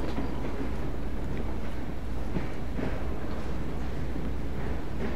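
A train in the video game Assassin's Creed Syndicate rumbles steadily with a low, constant rolling drone and faint clatter, heard alone throughout.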